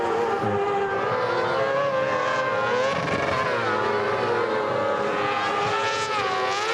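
F1 sidecar racing outfits roar around Donington Park in a loud, continuous engine wail, several machines overlapping with pitch rising and falling as they pass.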